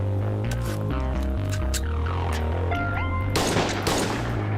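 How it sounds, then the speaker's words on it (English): Gunfire in a shootout in the video game Schedule 1, rapid shots over music and humming tones, ending in a loud dense burst of fire. "Good old-fashioned shootout."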